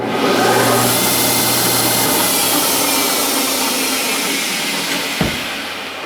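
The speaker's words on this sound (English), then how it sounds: "we're going to run the lathe here at 2400 RPM" A metal lathe turning at 2400 RPM in a home machine shop, a steady broadband whir with a low hum that eases slightly toward the end, running alone without talk.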